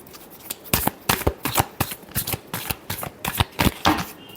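A deck of tarot cards is riffled and shuffled in quick repeated bursts, about a dozen crisp flutters in a steady rhythm, close and alone.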